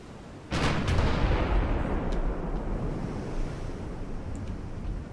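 A heavy naval gun salvo in Ultimate Admiral Dreadnoughts booms once close by and loud, then fades into a long rumbling roar like surf that lasts several seconds.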